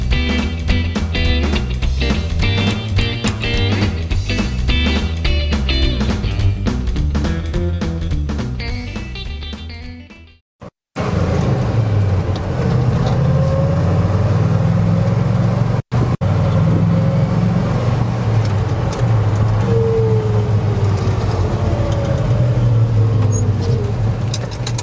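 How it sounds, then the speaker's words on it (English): A 1980s K20 pickup truck on the move, a continuous low engine and road rumble that briefly cuts out near the middle, then resumes with rattly cabin noise and no voices. "Alright, so we are driving the K20."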